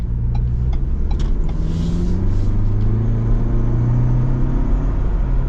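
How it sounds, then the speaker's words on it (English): A Ford Bronco Everglades with a 4-cylinder turbo engine accelerates, a steady low rumbling drone rising gently in pitch, heard from inside the cabin with a faint whir and brief light ticks early on. "I like the turbo noise, but yeah, it's good power"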